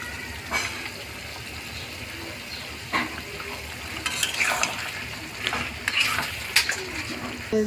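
Chicken liver fries in a pan for kolija bhuna, a steady close sizzle broken by several sharp clinks and scrapes of a utensil against the pan.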